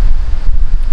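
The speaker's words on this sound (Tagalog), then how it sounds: "Tapos medyo mahangin sa malamig." Strong, cold gusts of wind buffet the microphone at a coastal view deck in Dingalan, Aurora, a loud low rumbling roar with no other sounds.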